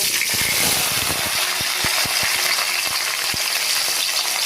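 Potatoes drop into hot oil tempered with cumin and bay leaf in a wok, making a loud, dense sizzling hiss with sharp metallic taps and clinks, and no talking.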